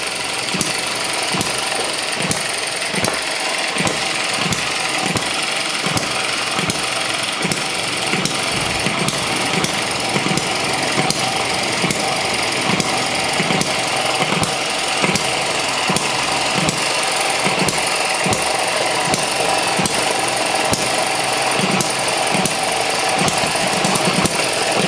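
A stationary hit-and-miss engine thumps in a steady, rapid rhythm, loud and close, with a mechanical clatter running continuously throughout.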